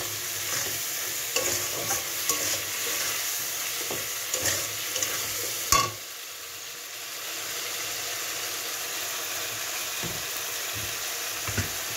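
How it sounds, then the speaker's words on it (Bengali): Spice masala is sautéed and stirred in a pan over lowered gas: a continuous sizzle with scraping stir strokes, one sharp clack partway through, then a slightly quieter sizzle. "মশলাটাকে ভালো করে কষিয়ে নিলাম।"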